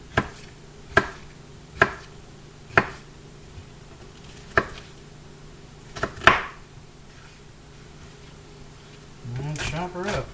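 Knife chopping food on a cutting board, about six sharp, evenly spaced strikes that stand out clearly against a quiet room, followed by a brief rustle near the end.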